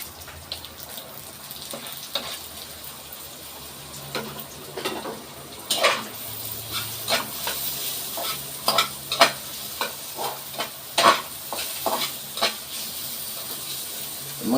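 Vegetables sizzling in a pan while a utensil scrapes and stirs, with irregular clattering strokes over a steady frying hiss, close and alone without talk.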